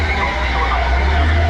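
Safari vehicle braking, a continuous rough scraping, skidding rumble held steady for over a second, close and fairly loud, with no talk.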